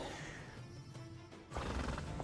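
A horse neighs for the Roach card in the digital card game Gwent, a short whinny over steady game-music background, with a louder burst toward the end.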